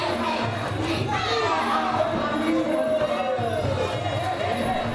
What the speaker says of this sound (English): You can hear my friends here in the background shouting.